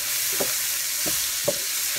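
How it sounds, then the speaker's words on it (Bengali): Spice masala with onions fries in a pan with a continuous hiss, broken by a few distinct scraping stirs of a spatula, close and steady with no voices. "এখন আমি মশলাটা ভুনা ভুনা করবো"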